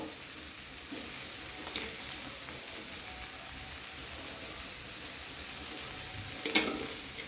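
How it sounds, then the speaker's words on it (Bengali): Chopped onions frying in a small amount of oil give a steady, close sizzle and crackle that runs throughout, with a few louder pops near the end and no talking. "এই যে পেঁয়াজগুলো কেটে রেখেছিলাম এগুলো দিয়ে দেবো।"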